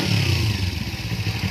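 Motorcycle engine revved during an ignition coil check, a brief close, rough mid-pitched rev with a pulsing low rumble.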